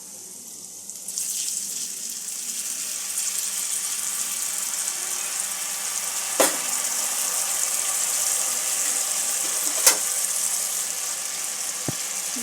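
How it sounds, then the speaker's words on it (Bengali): Mustard paste hits hot spiced oil in a pan for a Bengali rohu fish dish, starting a loud, steady hiss that holds throughout, broken by a few sharp clicks. "সর্ষের পেস্টটা আমি দিয়ে দেব।"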